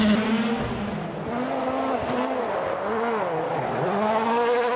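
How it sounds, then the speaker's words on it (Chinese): Rally cars race past at high revs, engines rising and falling in pitch with a continuous loud roar and squealing tires as they corner and skid, close and sustained throughout. "那说到汽车拉力赛啊，您脑中可能出现的画面是这样的"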